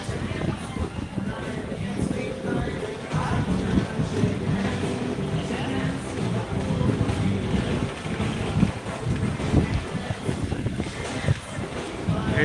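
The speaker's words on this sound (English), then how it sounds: "Nice and cool and windy today." Wind buffets the microphone outdoors on a cool day at a theme park, a steady broadband rumble running the whole time with crowd voices and talk mixed in underneath.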